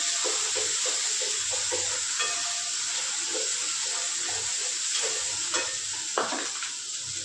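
Dal tempering with spices sizzling in a hot pan, a continuous bright frying hiss with scraping stirs and small pops, close and steady with no voices.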